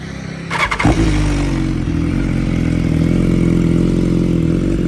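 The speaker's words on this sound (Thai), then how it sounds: "เดี๋ยวมาฟัง เสียงเครื่องกันนะครับ" A 2016 BMW S1000RR sport motorcycle engine starts with a brief crank and then settles into a loud, steady idle rumble close by.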